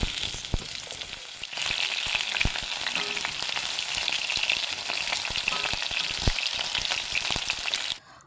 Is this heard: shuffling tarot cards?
no